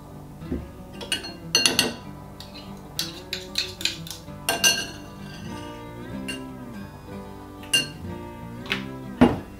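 A spoon scrapes and clinks against a bowl while spicy beer whole grain mustard is scooped in, with irregular bright metallic taps and knocks spread across the clip.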